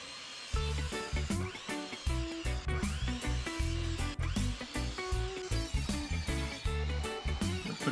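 Power tool cutting wood for the front face and speaker wall of a French cleat stereo cabinet, a loud close run of repeated short bursts with whining pitch sweeps, no talking.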